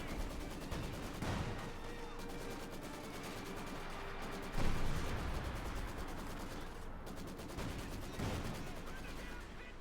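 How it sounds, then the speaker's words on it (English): Wehrmacht artillery and gunfire crash through a Company of Heroes 2 battle, with dense repeated shots and booms over a constant roar of combat, and a heavier blast near the middle. "The wrath of the Wehrmacht artillery."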